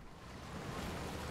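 A boat moving across open water in Resident Evil Village, a steady broadband wash of waves and wind rushing past, close and continuous for about a second.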